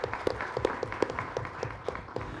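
An audience at a public policy forum applauds to welcome a speaker, steady moderate clapping with repeated hand hits over a low room background.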